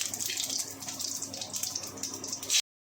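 Onion-tomato gravy hits hot oil with cumin and bay leaf in a kadai, giving a loud, close, continuous sizzling hiss that cuts off abruptly.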